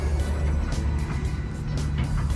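A Caterpillar 312C 12-ton excavator engine idling at its lowest revs, a steady low diesel rumble heard close up with no talk.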